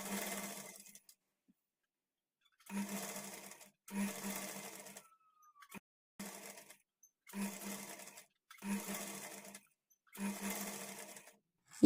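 A sewing machine stitches a blouse shoulder seam in about seven short bursts of quick, even whirring, each separated by a silent pause, close and clear with no talking.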